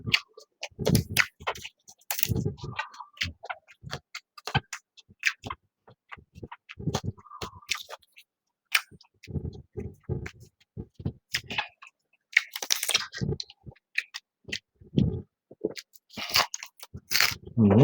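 Crunchy chewing and biting of a spicy Thai grilled pork salad (nam tok moo), close to the mic, in bursts with pauses, with some talking in between.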